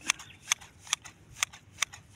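New sharp scissors snipping dwarf Bermuda grass, five crisp cuts in an even, quick rhythm, close and clear over a quiet background.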